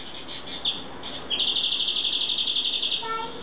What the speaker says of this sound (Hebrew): שומעת את הציפור?